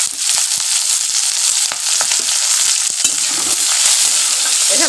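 Onions stirred in a hot pan for an egg do-pyaza, a steady loud sizzle with scraping strokes of a spatula running throughout, no voices.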